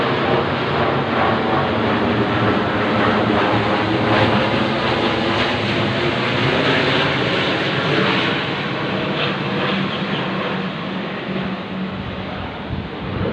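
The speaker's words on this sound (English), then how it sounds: "This is an army plane." An army plane that resembles a passenger jet flies directly overhead, its engine roar loud, broad and continuous, swelling slightly and then easing toward the end, with wind buffeting the microphone and no voices.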